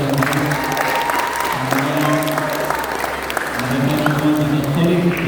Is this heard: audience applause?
yes